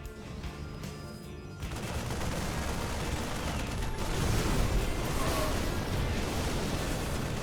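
Siege tanks firing in a StarCraft 2 battle, a dense continuous barrage of booming cannon blasts and crackling gunfire that swells louder after the first second and keeps rolling without a break.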